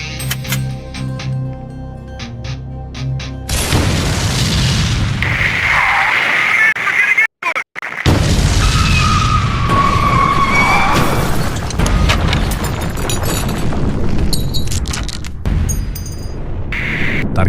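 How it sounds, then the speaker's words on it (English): A fuel tanker set alight by incendiary rounds in BeamNG erupts in a loud, sustained roaring explosion, preceded by quieter sounds, broken by a brief silent gap and followed by crackling and rumbling debris. "Use incendiary rounds to ignite that tanker."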